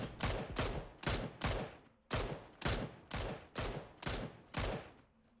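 A rapid burst of gunfire in the PUBG battle royale game, about ten sharp reports in two quick volleys, crisp and evenly paced but faint in the mix, as if heard from a distance.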